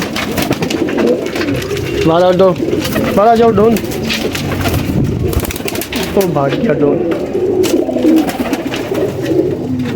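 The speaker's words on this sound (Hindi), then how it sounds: "सामने छोड़े बदमाश कबूतर है दोस्तों" Pigeons cooing in a loft setup, several rolling coos close by, mixed with someone talking throughout.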